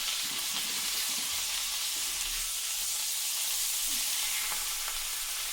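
A rack of lamb sears in a hot pan with a steady, close, broadband sizzle that holds even throughout, punctuated by a few faint pops and crackles and no voices.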